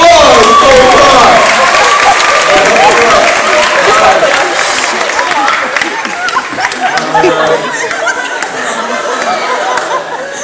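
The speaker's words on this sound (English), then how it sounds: "Give them a big round of applause." A theatre audience at a live hypnotist show applauds steadily for the full stretch, with crowd chatter, scattered laughter and a few cheers mixed into the dense clapping.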